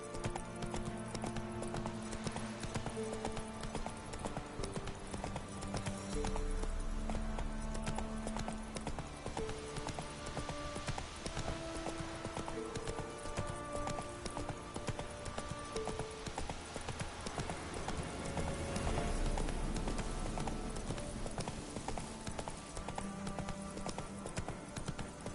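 Hooves of Roach, the horse in the Witcher 3 video game, clop in a steady galloping rhythm against a dense bed of game music and ambience, with an occasional whinny.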